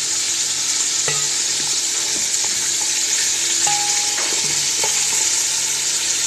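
Garlic frying in a pan of oil, a steady bright sizzle throughout with a few soft clinks and scrapes of a utensil against the pan.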